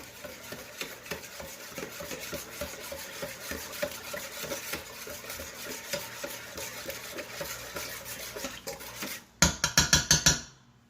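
A regular spoon stirs homemade stuffing mixture in a bowl with steady, repeated scraping and squelching strokes, close by, ending in a quick series of louder clinks against the bowl.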